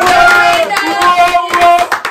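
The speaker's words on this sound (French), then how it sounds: "Applaudissez, applaudissez" Audience hands clap at a freestyle rap battle, a loud scatter of claps mixed with tonal music and voices.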